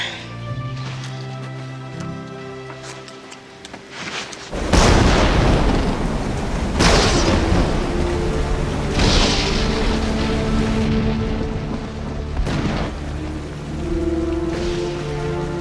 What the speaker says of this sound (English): It's a terrible storm.